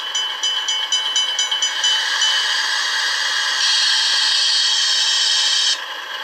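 A Lenz O gauge DB V20 model diesel locomotive with DCC sound runs through its operating effects: rapid rhythmic clicking and hissing give way to a steady, loud mechanical rumble with a brighter burst near the end.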